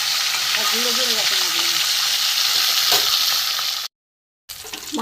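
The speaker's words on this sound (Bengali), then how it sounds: "মাছগুলো এপিট ওপিট করে ভাজা হয়ে গেছে বন্ধুরা" Katla fish pieces fry in a pan, a loud dense crackling sizzle that runs steadily, with a faint voice briefly underneath and a short gap near the end.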